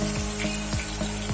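Ginger, onion and garlic paste sizzles steadily in a pressure cooker for veg biryani, a close, continuous frying hiss broken by a few soft rhythmic stirring scrapes, with no voices.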